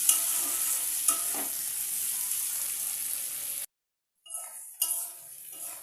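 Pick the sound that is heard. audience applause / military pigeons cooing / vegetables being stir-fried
vegetables being stir-fried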